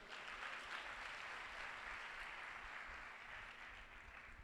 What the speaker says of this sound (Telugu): మీకు చప్పట్లు కొట్టండి ఒకసారి.